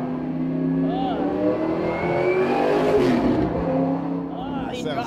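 A Ford Shelby GT500 Mustang with a manual shift revs its engine, a rising and falling mid-pitched roar with gear-like pitch sweeps, heard under people talking nearby.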